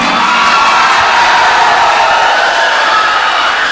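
Loud, dense crowd noise with cheering and whoops filling the whole stretch, steady and close, with no clear break or individual voice standing out.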